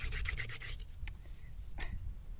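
Wooden spindle drilled back and forth against a fireboard for a friction fire, rough rhythmic rubbing and scraping strokes close up, steady and moderately loud.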